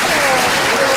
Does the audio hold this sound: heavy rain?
no